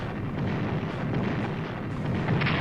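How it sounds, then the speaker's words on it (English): Artillery bombarding Tobruk in the wargame Strategic Command, 1939 Storm over Europe, comes through as a steady, dense rumble of booms and blasts that runs without pause from start to finish, with no voices. "Let's bombard Tobruk."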